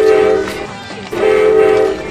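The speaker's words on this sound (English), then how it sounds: "we're going to get on the Erie Express train." Two loud, sustained train horn blasts sound close by, separated by a short pause, over the rumble of the Erie Express train.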